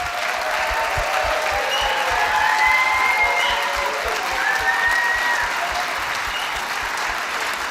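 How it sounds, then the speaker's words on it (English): A round of applause for Pastor Dave from a church crowd, a continuous wash of clapping at an even level, with faint whistles or cheers rising above it. "let's lift up a round of applause for him"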